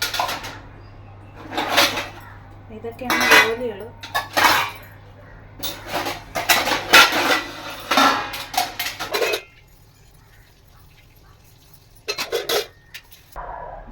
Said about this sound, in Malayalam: ദിവസം കഴുകിയ പാത്രങ്ങളെല്ലാം പറക്കി ഇതിനകത്ത് വെച്ചിട്ടുണ്ടായിരുന്നേ അതെല്ലാം നന്നായിട്ട് ഉണങ്ങി നമുക്ക് പറക്കി സ്റ്റാൻഡിൽ വെക്കണം